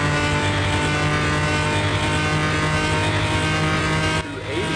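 An all-wheel-drive V12 sedan in Car Mechanic Simulator holds a loud, steady high-pitched engine whine at top speed near 300 km/h, then drops off abruptly toward the end as the throttle lifts.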